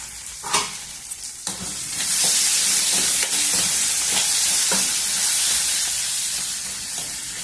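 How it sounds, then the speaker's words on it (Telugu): Sliced onions with a little salt sautéing in a pan, a loud steady sizzle and hiss close by, with a few spoon scrapes and stirring knocks near the start and scattered through. "ఉల్లిపాయల్ని కొద్దిసేపు మగ్గనిద్దాము"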